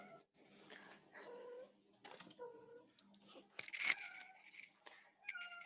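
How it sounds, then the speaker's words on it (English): A pet cat meows indoors, several short, faint cries spaced out over a quiet room with low background noise. "I hear cats."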